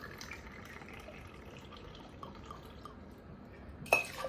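Wild Turkey bourbon is poured into a mixing glass for an old fashioned, a faint, steady trickle of liquid that ends in a sharp clink of glass.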